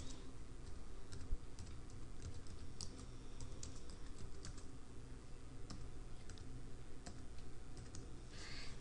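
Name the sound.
typing on a computer keyboard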